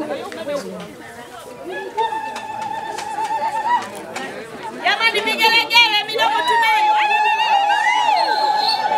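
Wedding guests at a church wedding break into high, trilling ululation that rises and swells over crowd chatter, growing louder and more sustained toward the end.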